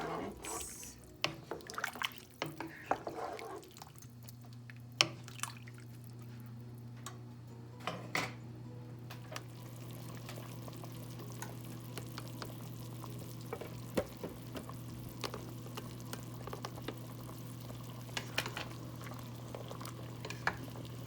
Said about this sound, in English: I'm just gonna bring this to a boil until the pumpkin is cooked out